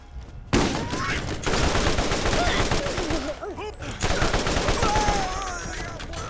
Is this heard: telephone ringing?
no